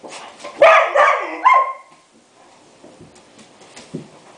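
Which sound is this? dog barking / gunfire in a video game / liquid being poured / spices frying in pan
dog barking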